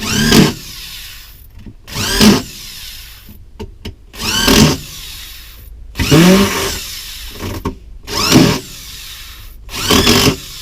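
A power drill whirs in repeated bursts, each winding up and cutting off as screws are driven, loud and close with brief gaps between.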